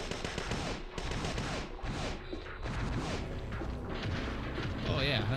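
Repeated gunfire from the Parasite Eve II video game, fired in a steady run of shots against a large creature, with someone talking loudly over most of it.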